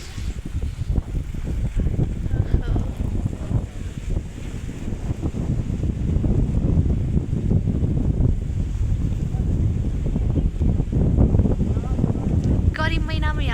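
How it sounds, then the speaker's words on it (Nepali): Strong wind blows steadily across an open hilltop in Makwanpur, Nepal, a constant low rumbling buffeting that stays loud throughout, with faint voices briefly underneath. "कस्तो हावा चलिरहेको छ यहाँनिर"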